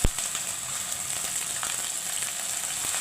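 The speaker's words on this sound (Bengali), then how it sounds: "এই মশলাটা একটু ভাজা ভাজা হোক" Spice paste sizzles steadily in a hot pan while prawn and pointed gourd curry is being cooked. The frying is close and continuous, with a bright hiss and small crackles and no talk.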